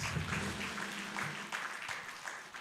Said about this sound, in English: I think we can give our secretary a special round of applause, please